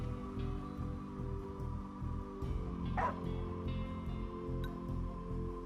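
A dog barks in the Final Fantasy XV video game, a short bark or two near the middle, partly masked by steady, droning in-game background music.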